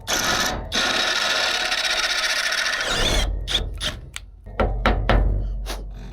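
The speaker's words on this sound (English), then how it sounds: "we're gonna go ahead and drill it" Drill boring out a bushing hole against a piece of wood: a loud, continuous grinding whir for about three seconds, then a series of short, sharp bursts as the bit is run in repeated pulses, close by.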